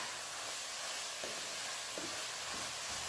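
Chopped vegetables for bolognese simmer and sizzle in a pan, a faint steady hiss with a couple of soft stirring bumps and no talk.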